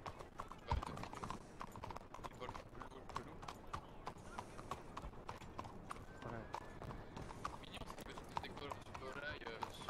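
Horse hooves clip-clop steadily in a video game, a quiet continuous trotting rhythm running beneath people talking throughout.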